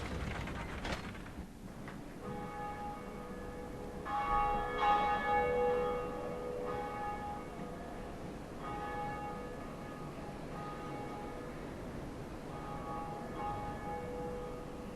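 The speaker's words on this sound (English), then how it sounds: "there's another player that just rung the bell too" Church bell rung in a bell tower in Dark Souls' Undead Parish, several resonant strikes ringing out with long decaying tones, mixed with mechanical creaking and ratcheting of the bell mechanism.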